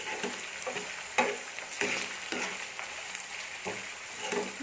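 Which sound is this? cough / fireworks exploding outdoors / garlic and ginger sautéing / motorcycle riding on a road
garlic and ginger sautéing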